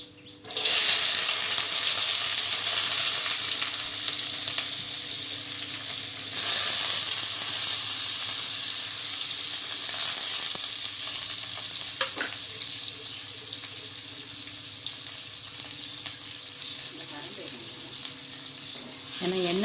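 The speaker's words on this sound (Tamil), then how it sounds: "இது கொஞ்சம் பொன்னிறமாக வறுகட்டும்." Cloves, fennel seeds and onion frying in a little oil for bone soup, giving a steady close sizzle and crackle that runs throughout with brief pauses, with no talk over it.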